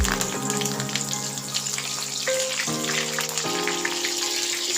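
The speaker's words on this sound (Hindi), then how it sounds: "कड़ी पत्ते को मैं फ्राई कर रही हूँ" Curry leaves frying in hot oil through a strainer make a dense, steady crackling sizzle close by, with tonal whistles and hums running under the bubbling and no talking.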